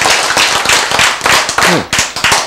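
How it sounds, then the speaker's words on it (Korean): A lecture audience claps in sharp, uneven bursts of individual hand claps, loud and close, with a brief voice cutting in partway through. "박수"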